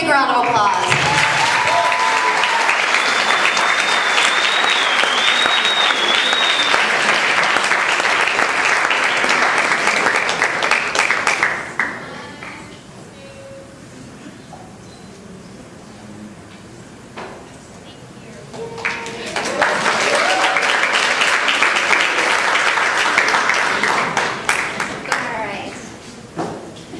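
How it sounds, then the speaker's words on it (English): Loud audience applause at a high school awards ceremony honoring two students, a dense burst of clapping that dies away briefly before swelling again into a second long round of applause. "So let's give a big round of applause."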